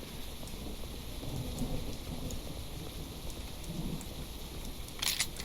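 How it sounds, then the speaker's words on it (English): Heavy rain falls steadily in the video game Project Crypt, close and dense, while low thunder rumbles roll twice underneath and a sharp crackle bursts out near the end. "Oh yes, the heavy rain, the light chill as we step out."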